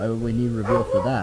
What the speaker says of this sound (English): I apologize if you hear a dog barking